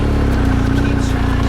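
A car engine labours at steady low revs while climbing a steep, narrow mountain road on Mount Lovćen, a loud, close, continuous drone with no pause.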